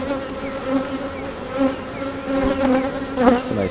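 A honeybee colony hums steadily at close range, a dense, droning buzz with individual bees passing near and swelling louder now and then.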